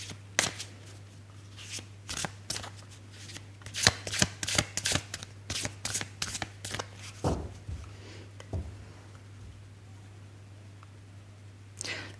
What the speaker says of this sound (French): On va tirer quelques cartes avec l'oracle des fées